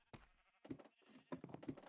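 Sheep bleating in a video game, two or three short, quiet bleats in close succession, with no talk over them.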